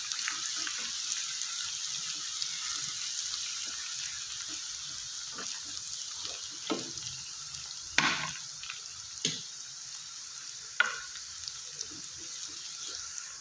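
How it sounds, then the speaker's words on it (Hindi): Ginger garlic paste frying with golden-brown onions in a pan, a steady soft sizzle punctuated by scattered clinks and scraping stirs, close by and moderately quiet, with no talking. "और मैं इसमें अदरक लहसुन का पेस्ट 1 टेबल स्पून भर के शामिल कर रही हूँ।"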